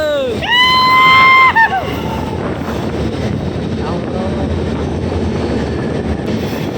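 A train rolls along a railway line past small waterfalls with a continuous loud rumble, opening with a brief rising horn blast, while faint voices murmur underneath.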